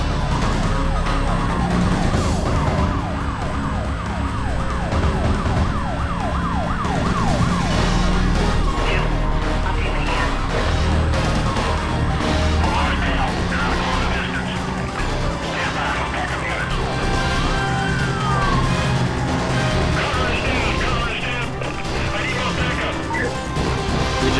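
Police car sirens wail in the racing game Need for Speed Most Wanted, rising and falling over a dense, loud mix of engine roar, crashes and game sound throughout the chase.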